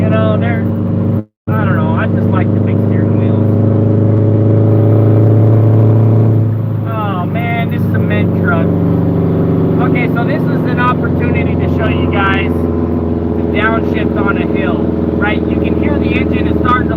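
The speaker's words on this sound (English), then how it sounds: "engine is starting to lug, let off the gas." An old truck engine drones low and heavy while driving, lugging under load at steady low revs, with someone talking over the continuous rumble throughout.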